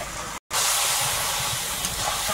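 Wet firewood hisses in a wood-fired clay stove, a steady close steam-like hiss broken by a brief cut near the start, with no speech.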